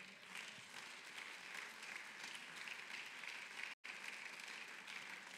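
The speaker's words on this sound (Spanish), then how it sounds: "Un aplauso al Señor." Congregation applauding in a church service, dense steady clapping sustained throughout at a fairly even level, broken by a brief dropout near the end.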